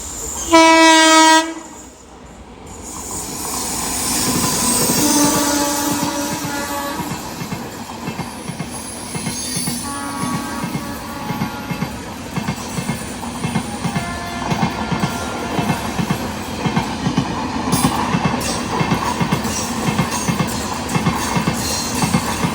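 Passenger train moving through Ernakulam Town railway station in Kerala: a loud horn blast at the start, then the steady rumble and rhythmic wheel clatter of coaches rolling past up close, building and holding throughout.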